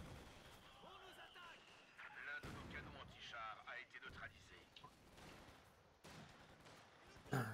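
Mortar and artillery blasts in the World War II strategy game Company of Heroes 2, several heavy booms landing a few seconds apart at moderate loudness amid battle noise, with players talking over the top.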